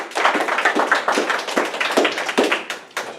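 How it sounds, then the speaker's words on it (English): A seated audience gives a round of applause for volunteers at a speech event, a fairly loud, close burst of clapping that runs the whole time and thins out toward the end. "let's give my brave volunteers another round of applause"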